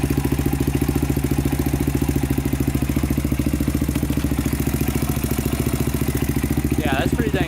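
Honda 400ex ATV engine running after a rebuild, a steady fast-firing idle with a fine rhythmic clatter, close and loud, holding even for several seconds before a brief voice near the end.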